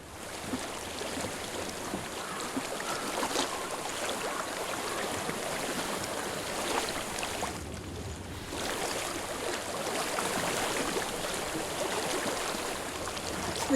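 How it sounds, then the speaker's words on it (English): A steady wash of flowing stream water in Hellblade: Senua's Sacrifice, constant and fairly quiet, with a brief dip near the middle and no speech over it. "I hear water."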